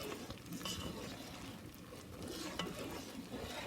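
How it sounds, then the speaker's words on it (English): A spoon stirs a boiling Oreo fudge mixture in a pot, with a soft, continuous scraping and bubbling that stays quiet and close, with a few faint clinks and no talking. "so just keep stirring."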